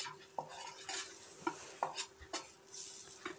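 A spoon stirs and scrapes spice paste frying in a little oil in a metal pan for paya curry, with a steady sizzle under irregular clinks and scrapes against the pan.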